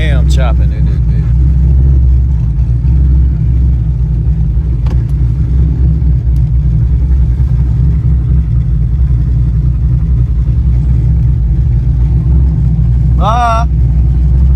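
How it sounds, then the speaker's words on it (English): Cammed V8 in a classic Grand Prix idling with a lumpy, choppy cam rhythm, a loud steady low rumble throughout, with brief voice sounds near the start and end. "Y'all hear that cam chopping in this bitch."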